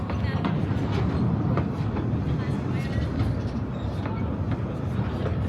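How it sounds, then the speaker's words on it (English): A steady rumbling scenic tourist train ride near Cripple Creek, Colorado, with continuous low clatter and rolling noise, occasional faint clicks over the wheels, no talking. "So basically just a little scenic train ride."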